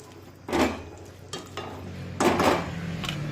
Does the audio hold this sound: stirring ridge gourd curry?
yes